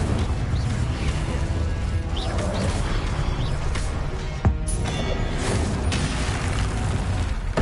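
Fire spell cast in Hogwarts Legacy: dense, continuous crackling and roaring whoosh throughout, with a sharper burst near the middle, loud and close, no talk.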